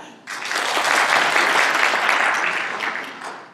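An audience at an academic talk on behavioral science bursts into applause, a dense, steady wash of clapping that fills the room for several seconds before tapering slightly at the end.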